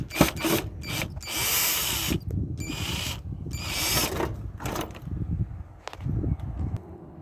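A screwdriver works loose the control board of a dirty Whirlpool stove, giving bursts of close ratcheting and whirring with short gaps, then a few clicks and rattles of metal parts.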